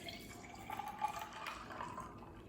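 Cold brew coffee is poured over ice at home: a quiet, close trickle of liquid with faint splashes and small clinks, soft and steady for a couple of seconds.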